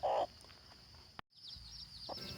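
A chicken lets out a brief loud cluck at the start, followed by quieter clucks and soft background noise, with a short silent gap midway, in a rural province.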